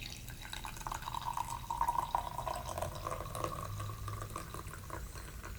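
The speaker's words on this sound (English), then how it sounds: "So let's go ahead and pour this out." Brewed Lanna Sum Poi small-batch arabica coffee from Thailand pours into a cup in a faint, continuous trickle with soft splashing, quiet and close.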